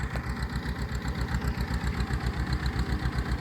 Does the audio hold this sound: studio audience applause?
no